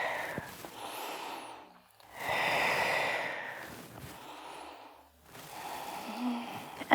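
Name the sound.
breathing in and out during yoga arm circles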